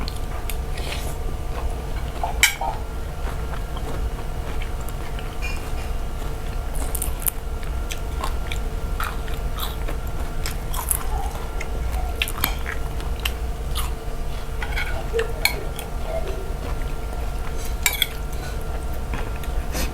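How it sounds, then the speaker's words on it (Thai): Someone eating khanom jeen nam ngiao noodle soup at a restaurant, with continuous chewing, slurping and spoon-on-bowl clinks close by, steady background hum and no talking. "กินจนจะหมดแล้ว"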